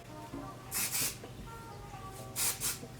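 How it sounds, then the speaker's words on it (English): Color Nurture Dry UV Protecting Oil is spritzed onto hair in two quick double bursts, each a soft airy hiss, close and clear against a quiet room. "Also, I like the spray. I like how it sprays."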